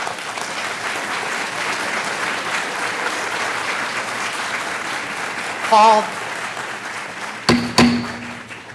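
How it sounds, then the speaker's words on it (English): An audience at a school district board of education meeting breaks into sustained applause and cheering, loud and continuous, with a couple of sharp thuds near the end and a voice speaking briefly over it. "the cheering and the applause just gets in the way"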